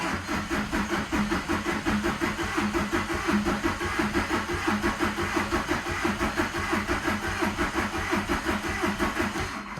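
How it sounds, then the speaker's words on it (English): A VW TDI diesel with a newly fitted turbo is dry cranked, the starter churning in a fast, even rhythmic chug for about ten seconds without the engine catching, loud and close with no talking. "I was gonna dry crank it a couple times."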